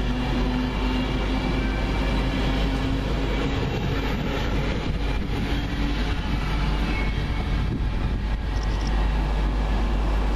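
A train arriving at a station rumbles steadily close by with a constant low roar and faint squealing tones, a continuous heavy rolling noise with no talking.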